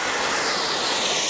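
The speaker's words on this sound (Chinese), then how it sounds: "你听听这发动机的轰鸣声，还是很带感的嘛。" A model F8 fighter jet's engine roars in a steady, loud, continuous rush of broadband noise that holds unchanged for the whole moment, with no voices.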